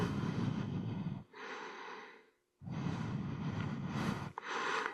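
Heavy breaths rush straight into a microphone in several long, loud inhale and exhale bursts, with a brief silent pause between them and no speech.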